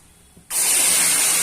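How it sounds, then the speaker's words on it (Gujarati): Milk poured into a large pot while making dudh pak: after a brief quiet start, a sudden loud, steady hiss fills the rest of the moment without pause. "હવે તેમાં આપણે દૂધ ઉમેરીશું"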